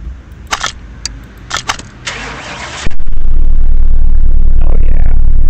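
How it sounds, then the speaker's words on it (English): Clicks and a starter whir lead into a Porsche 911 Turbo engine catching in Car Mechanic Simulator 2018, then settling into a loud, steady idle rumble. "Let's start the car up. Hear it purr."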